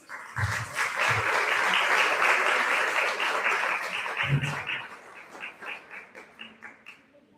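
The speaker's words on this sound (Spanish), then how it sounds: "vamos a recibir a Aranza Alonso con un fuerte aplauso" A gala audience at an 'Ori Tahiti dance fundraiser bursts into strong, sustained applause, dense and steady for several seconds before thinning into scattered claps toward the end; a few low thumps sit beneath it.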